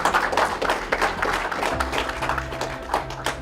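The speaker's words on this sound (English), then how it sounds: "May we please give the Honorable Minister another round of applause" Audience applause at a stock exchange opening bell ceremony for the Honorable Minister, steady dense clapping sustained throughout, with a faint low hum underneath.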